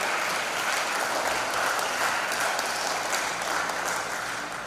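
Audience in the Naparima Auditorium applauding, a dense, sustained round of clapping from many hands that holds steady and eases slightly at the end.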